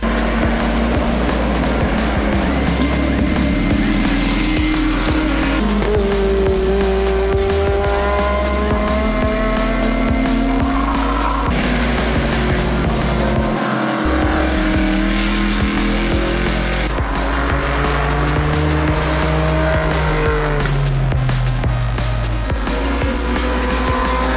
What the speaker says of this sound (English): These drivers are absolutely flying around the circuit.